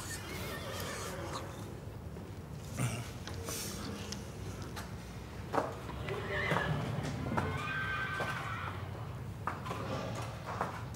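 A horse whinnies and its hooves clip-clop at moderate distance while people talk nearby, the neighing rising in bursts over the steady background of voices.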